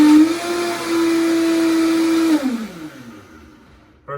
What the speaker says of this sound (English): I'm gonna do one quick blending so they can be very smooth